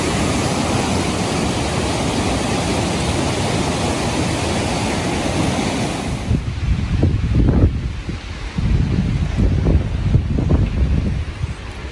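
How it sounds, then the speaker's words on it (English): Loud, roaring wind buffets the microphone, a steady rush that gives way to heavy, irregular gusts thumping against it. "it was so windy that day"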